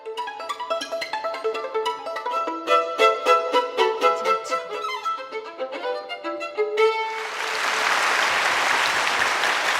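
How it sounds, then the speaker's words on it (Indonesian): Anime scene: a violin performance closes with several bright bowed notes, then a burst of loud, dense audience applause that takes over and carries on steadily to the end. "Ia langsung memberikan tepuk tangan yang begitu meriah begitu penampilan Kaori selesai."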